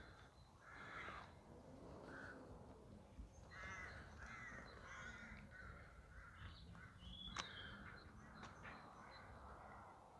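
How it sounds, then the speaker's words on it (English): Crows caw repeatedly from above in a churchyard at Tillingham, Essex, with harsh calls scattered over a faint outdoor background. "We've got some noisy crows up there."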